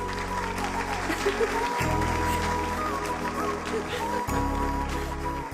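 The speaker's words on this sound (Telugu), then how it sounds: "మన జెసికా మేడం కి క్లాప్స్ కొట్టండి" Students in a classroom applaud their teacher, a steady wash of clapping from many hands that runs throughout over a tonal musical backing.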